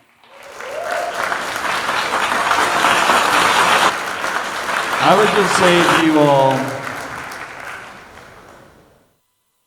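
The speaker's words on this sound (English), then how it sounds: "Can we get a huge round of applause for Max?" A crowd at a Bitcoin talk gives Max a loud, sustained round of applause that builds, holds, then fades away, while a voice speaks over the clapping.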